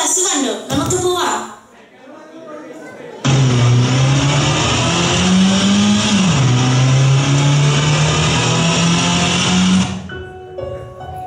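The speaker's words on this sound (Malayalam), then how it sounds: "നമ്മുടെ ബസ് വന്നു, നമുക്ക് പോവാം." A bus arrives and pulls away: a loud, sustained engine drone with a shifting pitch rises after a quieter stretch with a voice, holds steadily for several seconds, then fades back.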